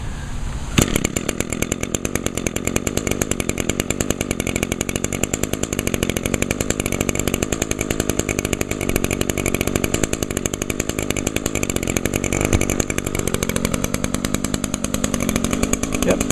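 An Echo gas string trimmer engine starts up about a second in and then runs steadily at high speed, a loud, continuous two-stroke buzz close by with no talking, the pitch wavering slightly near the end.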